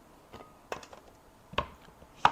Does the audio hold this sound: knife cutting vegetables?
yes